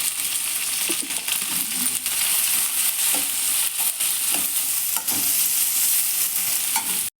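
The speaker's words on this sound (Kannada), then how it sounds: "ಈ ಒಗ್ಗರಣೆನ ಚೆನ್ನಾಗಿ ಎಣ್ಣೆಲಿ ಬಾಡಿಸ್ಕೊಂಡಿದ್ದೀನಿ." Coriander seeds, cinnamon, clove, cumin and dried fenugreek leaves fry in hot oil for a mint pulao, giving a continuous bright sizzle with occasional scrapes and clicks of stirring, steady and close throughout.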